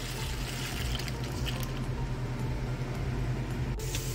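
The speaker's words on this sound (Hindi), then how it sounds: "इसको ब्रोकली को अच्छे से धो लेंगे हम।" Broccoli being washed under running tap water in a home kitchen, a steady soft stream of water trickling and splashing continuously at low volume, with no talking.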